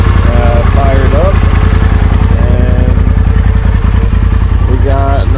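A small Polaris RZR side-by-side UTV engine runs loudly and steadily with a fast, even putter, and a voice breaks in briefly over the noise.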